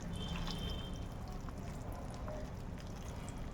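Puffed rice being washed in water, with a steady close wash of sloshing, pouring and dripping liquid running throughout at a moderate level.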